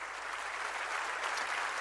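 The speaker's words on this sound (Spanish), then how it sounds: "dale fuerte ese aplauso al Señor" Steady audience applause filling a church during a worship service led by Pastor Cash Luna, dense continuous clapping throughout with no distinct voices.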